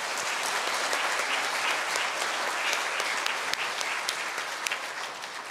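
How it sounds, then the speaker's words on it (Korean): A congregation claps in a Korean Catholic church after Sunday Mass, steady applause filling the room with crisp individual claps standing out, holding evenly before gradually thinning toward the end. "성모회 모든 분들에게 감사의 박수를"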